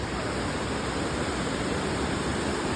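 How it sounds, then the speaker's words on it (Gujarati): The Yamuna river near Yamunotri rushes loudly and continuously, a dense, close roar of fast water that fills the whole stretch with no pauses or talk. "કેટલો અવાજ આવે, ફૂકવાટા મારતી છે આ નદી"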